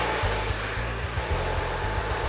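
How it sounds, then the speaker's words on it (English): An ionic Solano hair dryer blowing hair, a steady loud whooshing motor drone with a rhythmic low pulsing as the airflow shifts, continuous and close. "even though this dryer is the hottest of all Solano dryers, it is ionic, therefore it's healthy heat."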